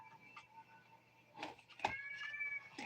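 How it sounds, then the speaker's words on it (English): A cat meows a couple of times, faint and somewhat distant, over a quiet background hum. "I have another cat that's meowing."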